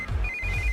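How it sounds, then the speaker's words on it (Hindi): An incoming call from a sister rings on a phone as a brief, steady electronic ringtone, a short beep followed by a sustained tone pattern, heard close over a low background hum. "इस वक्त दीदी का फोन।"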